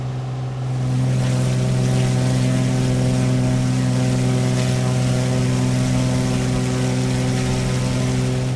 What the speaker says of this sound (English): there's actually a plane taking off right now. Looks like a TBM coming out of there.